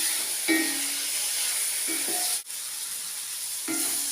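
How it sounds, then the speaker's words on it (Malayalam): Tomato chutney sautéing in a pan over a low flame, a steady soft sizzle and hiss running throughout, with a few brief stirring scrapes and low clinks rising and fading. "ചെറിയ ഫ്ലെയിമിൽ തന്നെ ഇത് വഴറ്റിയെടുക്കണം"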